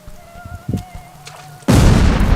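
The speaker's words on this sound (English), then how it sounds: "there's explosions going on all around us" A loud, sudden explosion bursts in after quieter muffled thuds and a faint tone, then roars on as a sustained rumbling blast of World War I game combat around a tank.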